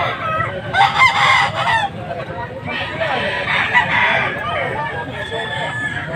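A fighting rooster crows loudly nearby at a gamecock market, two long strained calls in a row with some background chatter and rustling.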